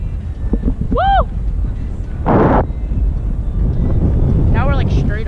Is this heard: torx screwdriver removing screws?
no